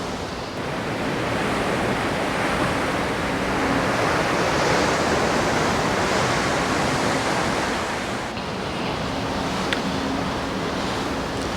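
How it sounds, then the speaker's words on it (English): Choppy open ocean with whitecaps and waves about 7 to 8 feet high, seen from the deck of a Celebrity cruise ship. It gives a loud, continuous wash of surf and wind with no talk. "We're looking at about 7 or 8 foot waves. We got a bit of a white cap going on."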